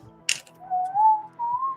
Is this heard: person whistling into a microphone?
yes